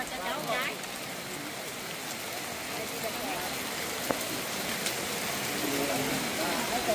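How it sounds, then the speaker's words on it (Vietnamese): Heavy rain before dawn, a dense steady hiss of drops hitting surfaces with a few sharper splashes, while someone talks over it. "ngày hôm nay thì mọi người thấy rằng là trời mưa rất là to"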